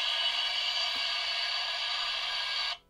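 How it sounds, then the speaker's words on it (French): Turbine sound effect from the electronics of a KITT model car kit, a steady hissing whoosh lasting nearly three seconds before cutting off abruptly, close and alone. "Et le bruit de la turbine."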